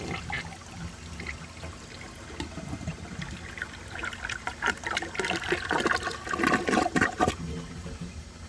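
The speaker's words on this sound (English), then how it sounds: "I'm going to give this another flush and get the rest of the dirt out" A 1984 American Standard Cadet toilet flushing: rushing, gurgling water builds to a loud swirl, then tapers into trickling refill, close and alone.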